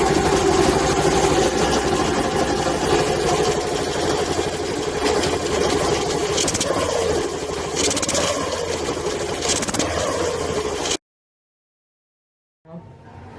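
A TVS Scooty Pep+ scooter engine idles with its air filter removed and the carburetor left open, giving a steady, close, rough running drone that cuts off abruptly into silence near the end.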